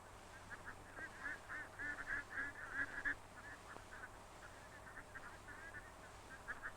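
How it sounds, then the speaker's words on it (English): Cormorants give a series of honking, goose-like calls in uneven bursts over a steady low background hum. The calls are faint and distant, with no voices. "These birds are called cormorants"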